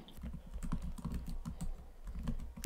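Typing on a computer keyboard with quick, soft, close key taps in uneven bursts and no voices.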